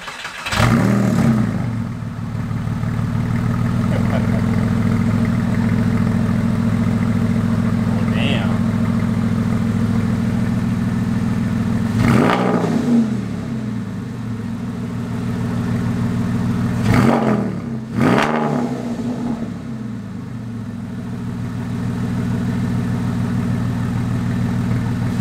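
Porsche 996 flat-six with a sixty61 muffler bypass exhaust, a loud, steady idle broken by a few sharp revs that swell and drop back, heard close.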